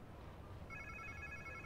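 A telephone in the video game Spider-Man 2 begins ringing partway through, a bright electronic trill that enters after a quiet start and holds steadily at moderate level.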